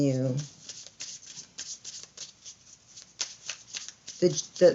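Tarot cards are shuffled and drawn during a Capricorn tarot reading, with a steady run of soft, close papery riffles and flicks. A voice speaks briefly at the start and again at the end.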